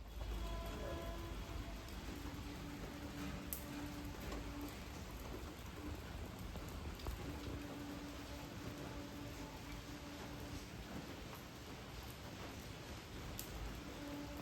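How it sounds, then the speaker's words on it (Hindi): Heavy, steady downpour pounding surfaces outdoors for a long stretch, dense and continuous with occasional louder drips and a low rumble beneath, with no voices over it. "यहाँ पे अच्छी बारिश हो रही है, मतलब झमाझम वाली बारिश हो रही है"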